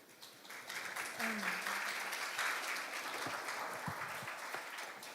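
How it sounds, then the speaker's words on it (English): An audience at a youth international forum on global citizenship education applauds steadily for about five seconds, a dense wash of clapping in a hall, with faint murmurs underneath. "Please welcome them with a round of applause."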